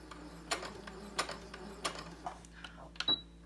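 Home sewing machine running a basic stitch on fabric for a reusable face mask, in several short quiet bursts with pauses between, close by and fairly soft.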